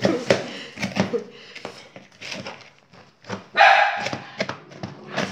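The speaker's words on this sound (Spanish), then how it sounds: "ya salió nuestra perrita ahí" A small female dog barks in short, sharp bursts close by, several yaps spaced unevenly, with a voice speaking briefly in between.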